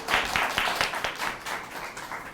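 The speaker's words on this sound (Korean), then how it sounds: "큰 박수로 또 환영해 주세요" Applause from an audience welcoming panel speakers at a disability forum, a short burst of scattered claps close by that thins out over a couple of seconds.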